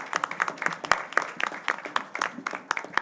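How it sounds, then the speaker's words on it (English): Applause at a board of education meeting, where a small group claps in distinct, uneven strokes that sound fairly close and sparse instead of forming a dense roar. "let everybody give you an applause for all of your hard work"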